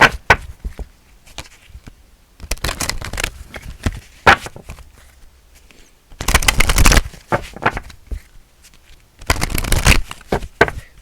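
A deck of Soul's Journey lesson cards is shuffled and handled in quick riffling bursts, with short crisp flurries of card flicks separated by quiet pauses.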